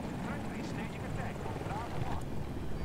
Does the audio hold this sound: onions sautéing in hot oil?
no